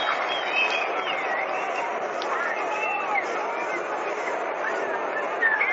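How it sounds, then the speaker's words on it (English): Crowd applauding in the stands at a 1937 World Series baseball game between the New York Yankees and New York Giants, a broad steady wash of clapping and crowd noise with a voice talking over it. "there's a round of applause for them"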